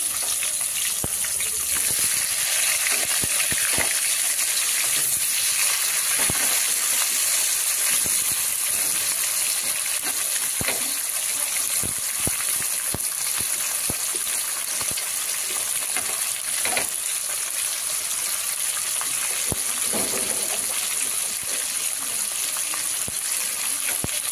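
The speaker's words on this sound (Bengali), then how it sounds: "লাল লাল করে পেঁয়াজগুলো ভেজে নেব।" Onions frying in hot oil with bay leaves in a pan, a steady close hiss and sizzle running throughout, with faint scraping stirs now and then and no talking.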